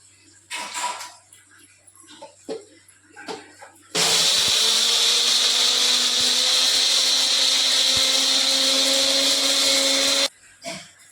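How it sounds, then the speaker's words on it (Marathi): A mixer grinder grinds cardamom into powder, a loud, steady high whir that starts abruptly after a few soft knocks and runs unbroken for about six seconds before stopping sharply. "मिक्सर मधन फिरून घेऊया"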